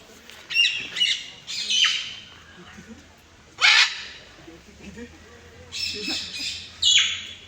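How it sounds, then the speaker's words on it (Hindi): Various birds squawk and call loudly at a zoo, with several harsh bursts close by and gaps between them. "अलग अलग चिड़िया।"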